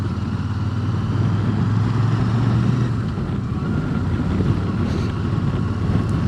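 A 2023 Royal Enfield Super Meteor 650 cruiser pulls away at low revs, its deep, steady engine rumble heard from the rider's position under heavy wind buffeting.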